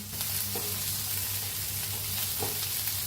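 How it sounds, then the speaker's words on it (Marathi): Garlic cloves and grated coconut roasting in a pan with oil, a constant close hiss and crackle, with a couple of soft scrape-like knocks as the mixture is stirred, no talking. "असं किस घेतलाय बघा, त्याचंच भाजून घेऊया"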